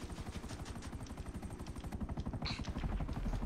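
A helicopter in GTA 5 Online on PC throbs with a fast, even rotor chop, loud and continuous, with a brief higher tone near the end and no talk over it.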